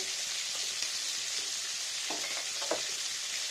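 Black cumin seeds frying in hot oil for a hilsa fish curry, a steady bright sizzle with a few soft stirring clicks, close and continuous, no voices.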